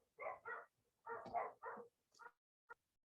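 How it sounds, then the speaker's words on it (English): Several dogs barking indoors at a distance: a quick run of muffled barks followed by a few short, fainter yips, faint and set against silence. "my dogs are so noisy"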